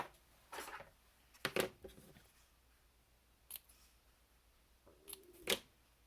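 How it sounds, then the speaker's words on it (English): Several quick, crisp snips of scissors cutting, scattered in short bursts with quiet pauses between. "Get my pair of scissors out."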